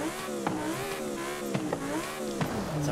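A Sesto Elemento FE supercar in Forza Horizon 5 revs its engine in a continuous high, smooth drone that rises and falls in pitch, with a few sharp shift-like blips, loud and close with no voices.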